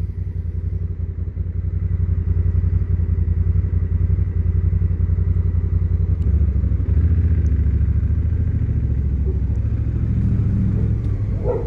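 Honda NT 1100 motorcycle riding through narrow streets in Spain, its engine a loud, steady close rumble with a dense throbbing pulse throughout.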